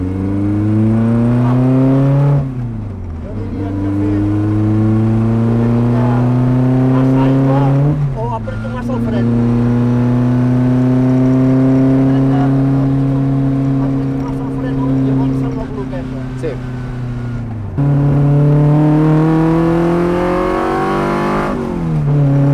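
An Abarth rally car engine revs hard on a track, loud and close, climbing through gears with rising whines, brief drops at each shift, then surging again; talking can be heard faintly under the engine.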